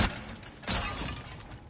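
Objects being smashed and shattering in God of War Ragnarok, a sharp crash at the start followed by a second breaking burst, with debris tinkling briefly afterward.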